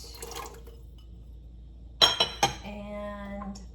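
Chopped carrot, celery root and potato cubes drop into a pot of soup in a quick cluster of knocks and splashes, followed by a short ringing tone, in an otherwise quiet kitchen.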